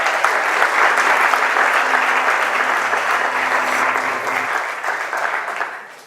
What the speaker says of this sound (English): you're clapping for me